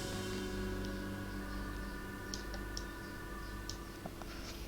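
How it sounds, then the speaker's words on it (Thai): A noisy, non-silent computer mouse clicks several times, sharp and brief, over a steady background hum while someone builds a Minecraft map in Worldpainter. "เสียงเมาส์ผมดังไปขออภัยครับ"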